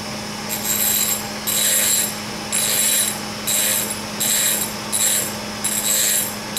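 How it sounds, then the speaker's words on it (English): A ratchet wrench bolting down non-adjustable rocker arms on a cylinder head during assembly: six evenly spaced bursts of rapid clicking, each about a second long, close and clear over a steady low hum. "You just bolt them down."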